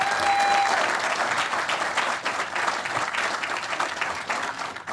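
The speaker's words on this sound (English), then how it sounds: "So give a big round of applause to the leadership that made that happen" A crowd applauds at a hotel groundbreaking ceremony, with dense sustained clapping held at a steady level for about five seconds and tapering slightly at the end.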